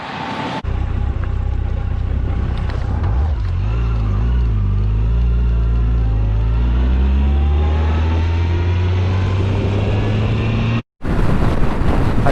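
Heavy, steady engine drone and wind rumble from a Yamaha FJR1300 motorcycle cruising a Michigan highway, loud and continuous with a shifting low pitch, then a sudden brief cut near the end before the noise returns.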